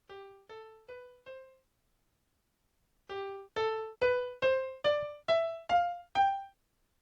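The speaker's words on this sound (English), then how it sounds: "G Mixolydian sounds like this." A G Mixolydian scale played as a short run of plucked notes, four at first, then after a pause eight louder notes stepping upward, each clean and decaying quickly, alone without speech.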